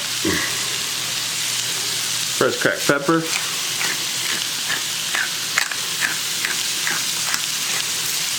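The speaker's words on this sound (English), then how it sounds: "get a nice sizzle on our pan" Loud, constant sizzling of ground beef and celery frying in a pan, with a voice speaking briefly over it and some scraping clatter.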